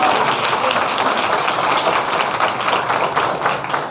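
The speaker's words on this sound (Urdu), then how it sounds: "تالیاں آپ یہ بجائے کہ خداوند یسوع مسیح نے ہمارا ملاپ کرایا۔" A church congregation applauds during an Urdu Christmas sermon, giving dense, sustained clapping that stays loud and even throughout.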